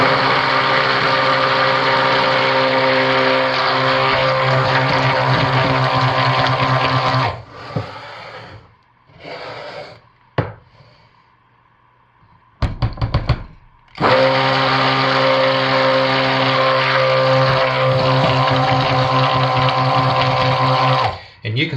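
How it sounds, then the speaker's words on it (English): Stick blender whirring through orange cognac cold process soap batter, a steady buzzing motor hum that stops for a few seconds with small clunks, then starts up again and runs on evenly. "So all of this has to be stick blended."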